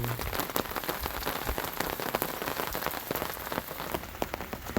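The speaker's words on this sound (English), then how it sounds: "just out here in the rain." Steady rain patters on a surface, dense and constant with scattered louder drops, close by and with no voices.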